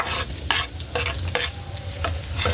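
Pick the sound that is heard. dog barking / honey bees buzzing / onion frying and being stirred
onion frying and being stirred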